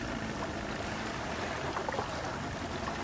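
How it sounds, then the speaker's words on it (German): A boat moves across a river in the video game Sniper: Ghost Warrior, a soft steady wash of water and low engine-like rumble, faint and continuous throughout. "Ich schippe hier gerade schön über den Fluss"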